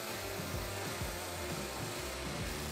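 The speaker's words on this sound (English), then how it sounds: "the spindle sander and the disc sander took it home" A spindle sander and a disc sander shape a wooden fence piece for a crosscut sled. There is a faint, continuous motor whir with a low hum and a gritty, even rasp, and no voices.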